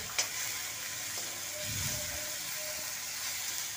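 Tomatoes and green chillies frying in a pan for a home-style baingan bharta base, a steady soft sizzle with a few light clicks and a brief low stirring rustle midway, close and without talk.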